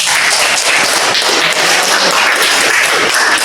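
A classroom of students applauding together, steady dense clapping held at an even level for a few seconds.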